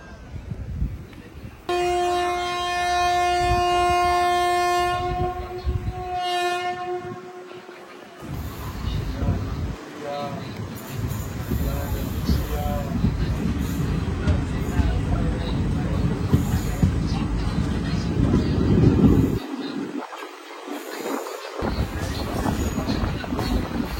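Intercity train running between Pollachi and Coimbatore in Tamil Nadu: a long blaring horn opens, then a continuous loud rumble of wheels and carriages with rattles and squeals, close and steady throughout.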